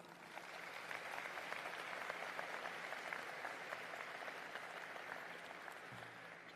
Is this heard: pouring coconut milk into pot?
no